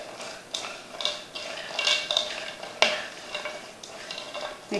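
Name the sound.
tossing vegetables with salt and herbs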